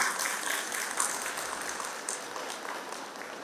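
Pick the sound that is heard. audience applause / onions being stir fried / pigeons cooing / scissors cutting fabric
audience applause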